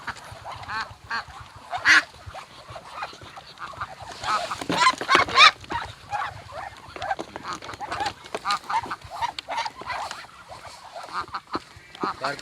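Ducks at a maggot and azolla farm in Aceh Besar quack and honk while being fed azolla, with scattered calls throughout and a louder burst of calls near the middle, set against a busy background.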